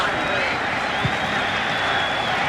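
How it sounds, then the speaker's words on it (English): A homecoming crowd at a 1998 West Virginia vs Miami college football game sends up a broad mix of boos and cheers, a steady, fairly loud roar heard under a commentator's voice. "And now a set of boos, cheers come from this homecoming crowd."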